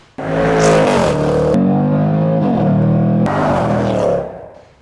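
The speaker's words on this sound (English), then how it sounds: "at its heart is a thumping great 5-litre supercharged V8" The 5-litre supercharged V8 of a 2021 Jaguar F-Pace SVR SUV revs hard and loud, climbing and falling in pitch with a rough, aggressive roar, then fades at the end.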